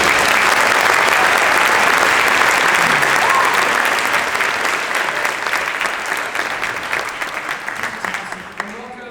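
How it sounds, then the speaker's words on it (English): Sustained audience applause for a middle school band at a school band event, dense and steady for most of the stretch before thinning toward the end. "round of applause for this fantastic middle school group."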